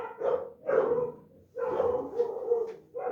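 Dogs bark in repeated bursts, fairly close and loud, with yips and short whines between the barks and brief silent gaps, and no talking over them.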